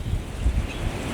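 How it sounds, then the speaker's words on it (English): Strong wind gusting outdoors at a campfire, buffeting the microphone with a steady low roar and rumbling surges, and no one talking. "Holy wind."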